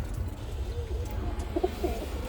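Birmingham Roller pigeons coo in a loft, soft low calls rising briefly over a steady low rumble of background noise, with no talking.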